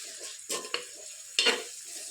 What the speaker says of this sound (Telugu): అలాగే ఇందులోనే పసుపు కూడా వేసి ఆనియన్స్ బ్రౌన్ కలర్లో వచ్చేంత వరకు ఫ్రై చేసుకోవాలి